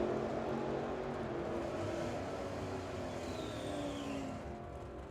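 Drag racing cars launch off the line at Firebird Motorsports Park, one a Brandon Gant car with a small 318 engine, roaring loudly at first then fading into a steady, receding engine drone with no voices.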